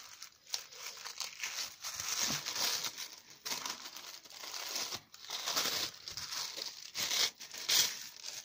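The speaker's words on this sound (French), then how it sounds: "Ça, je pense que c'est sa carte, donc on va l'ouvrir." A card envelope taken from a mailbox is torn open, giving crisp paper crinkling and tearing in irregular bursts close by, with brief pauses between handling sounds.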